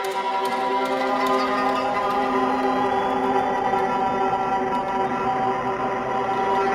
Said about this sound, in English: I got some creepy string samples set up, and I'm going to run them through the Mood Mark II to make them sound like this.